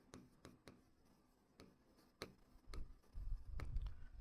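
A pen writes on paper during a maths lesson, a series of close, crisp ticks and scratches, followed by denser scribbling strokes with a low rumble underneath.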